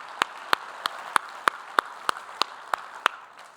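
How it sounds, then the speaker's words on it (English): An audience applauds at a panel event on climate resilience in Africa, with crisp, evenly spaced claps standing out close by over a soft, continuous bed of crowd clapping. "please a round of applause to welcome you"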